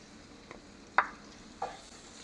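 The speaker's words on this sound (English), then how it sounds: "Now I'm adding the rest of onions and sweet pepper." Onions and sweet pepper are stirred into a hot pan for Jamaican curry shrimp, with a quiet background sizzle broken by two or three short scraping clinks of the spoon.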